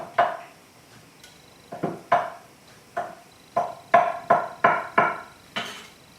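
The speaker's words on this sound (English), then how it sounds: "Now all you're going to do is just stir that tofu through" Tofu stirred in a pan with a utensil, giving a series of about ten distinct clacks and scrapes in an uneven rhythm, close and moderately loud, with no voices.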